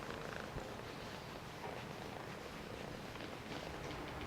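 A cat purrs steadily and softly throughout, a continuous low rumbling texture with no talk over it, recorded at an animal adoption setting.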